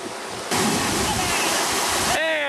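Rapids on the Kern River rush and roar with big waves. A loud, dense wash of water swells sharply after a moment and stays steady, and a brief voice-like tone appears at the end.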